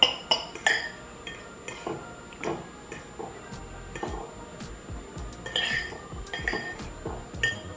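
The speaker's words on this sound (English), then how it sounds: "I'm gonna stir this for a second" Egg salad is stirred in a bowl, a utensil clinking and scraping against the sides in an irregular run of close, sharp taps and knocks.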